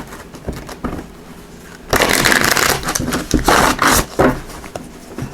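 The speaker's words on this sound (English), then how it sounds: "Just give it a couple more shuffles here." Crisp riffling of cards being shuffled close by, quieter at first, then loud rapid flutters and slaps in several bursts.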